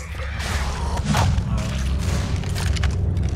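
Gunfire from the video game Left 4 Dead 2, a dense run of booming shots and thuds from several guns close by, with voices talking over the firing.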